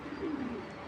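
Racing pigeons coo softly for a brief moment: a low, faint murmur over background hiss.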